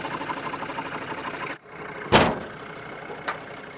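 Expedition vehicle with a gearbox problem, engine running with a steady mid-range drone that cuts out briefly, followed by a loud clunking knock and a smaller clack as it runs on.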